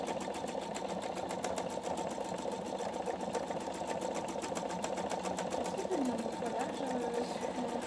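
A PFAFF Expression 720 sewing machine stitches fabric at a steady, even hum with a fast mechanical tick, fairly quiet and continuous throughout.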